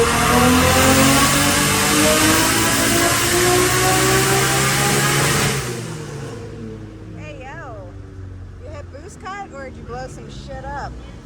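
A stock RB25DET NEO engine screams loudly up to its rev limiter on a dyno with a sustained high-pitched drone, then drops away as voices break in over the fading engine.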